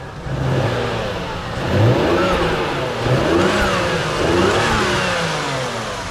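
A 1998 Toyota Aristo V300 with a 2JZ-GTE engine, a right-hand-drive JDM car, is revved close up several times in a row, each surge rising in pitch and dropping back toward idle.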